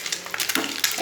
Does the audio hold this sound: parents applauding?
no